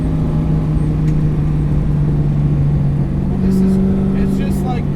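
A 650 HP 1969 Camaro track car built by Detroit Speed accelerates under throttle, its engine a loud, steady low drone close by, with a tone that rises slightly toward the end.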